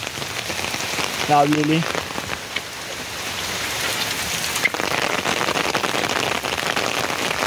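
Heavy rain pours steadily in Konkan, a dense, continuous hiss of drops on surfaces close by, with a brief voice speaking early on beneath the downpour.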